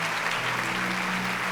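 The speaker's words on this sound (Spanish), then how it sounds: "¿por qué no le da un fuerte aplauso a Jesús?" A church congregation claps together in a dense, even wash of applause that holds steady for about a second and a half, with a low hum beneath it.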